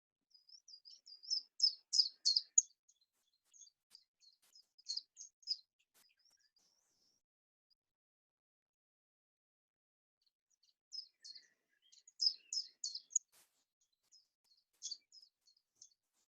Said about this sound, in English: Here's the chiff-chaff, a very easy one, really, because it says it sings its name.